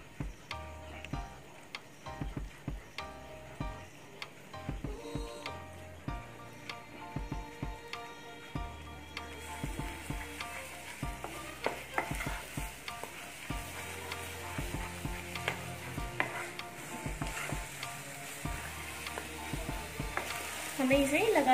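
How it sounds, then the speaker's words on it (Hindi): Egg bhurji being stirred continuously in a kadhai, with repeated scraping and clinking of the spatula against the pan over a steady sizzle, close and fairly quiet throughout. "हमें इसे लगातार चलाते रहना है, नहीं तो ये कढ़ाई के तले पर लग सकता है।"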